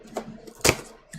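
A cardboard box being opened carefully so it doesn't tear, with a few short scraping and tapping sounds and one sharp louder rip or pop in the middle, close by.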